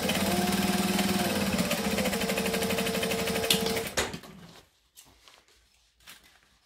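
A domestic sewing machine topstitches a lunch bag with a fast, steady mechanical whir and needle rhythm for about four seconds, then stops, leaving a few faint handling knocks.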